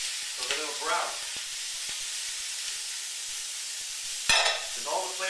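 Scallops fry in a hot, dry pan, giving a steady broadband sizzle with crackling spits throughout and a louder burst of hissing near the end, while someone speaks briefly over it.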